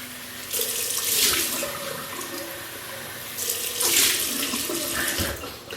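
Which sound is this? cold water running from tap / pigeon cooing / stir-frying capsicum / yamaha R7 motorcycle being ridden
cold water running from tap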